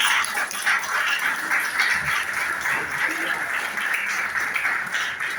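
A church congregation claps together during a sermon, a dense, steady wash of applause continuing throughout with voices mixed in.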